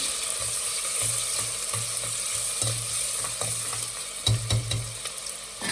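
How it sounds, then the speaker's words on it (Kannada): Ingredients for fenugreek rice fry in a pan with a steady, close sizzle, while a spoon scrapes through them in repeated stirring strokes. "ಇದನ್ನು ಚೆನ್ನಾಗಿ ಗೋಲ್ಡ್ ಕಲರ್ ಬರೋ ಥರ ಫ್ರೈ ಮಾಡ್ಕೊಳ್ಳೋಣ."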